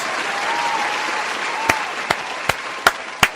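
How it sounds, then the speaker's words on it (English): An audience applauds loudly and steadily, a dense wash of clapping with several sharper claps punctuating the last couple of seconds. "Let me give them another round of applause."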